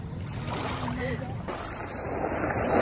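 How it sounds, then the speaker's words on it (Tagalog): A passing boat on open water, a broad rushing engine-and-wake roar that swells louder toward the end, with wind noise and people talking over it. "Biglang lumakas, ano? May dumaan. Dumaan yung boat."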